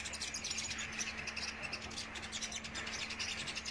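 A caged sunbird sings a continuous, busy stream of high, rapid chirps and trills, steady and fairly close, over a faint constant electrical hum.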